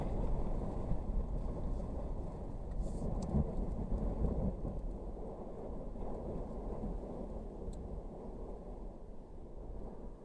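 Strong wind roars steadily in a deep, continuous rumble that buffets the microphone, loud and unbroken throughout with no pause in the gusting.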